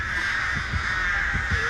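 Crows caw repeatedly in a video game, a run of harsh calls that sit over a loud, steady background drone.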